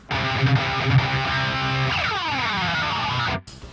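A sustained distorted electric guitar chord gives way to a long, grinding pick scratch along the strings that slides in pitch before cutting off abruptly.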